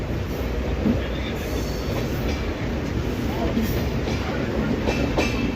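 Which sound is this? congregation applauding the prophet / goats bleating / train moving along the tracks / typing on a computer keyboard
train moving along the tracks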